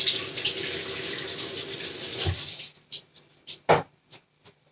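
Water runs steadily from a tap for a couple of seconds, a bright hissing splash, then stops, leaving a few scattered drips and small splashes.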